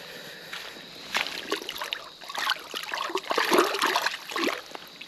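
A smallmouth bass is rinsed in a small creek, giving irregular close splashes and trickling water in soft bursts with quiet gaps between them.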